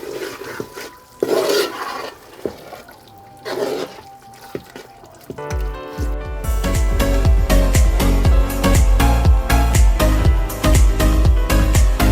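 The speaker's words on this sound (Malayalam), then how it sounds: "ഇനി നമുക്ക് വറുതാളിച്ചതിടാം" A fried tempering of mustard seeds, shallots and dried chillies is poured into a boiling Kerala-style pork curry. After a few quiet seconds with small clatters, a loud, crackling sizzle bursts in and keeps going to the end.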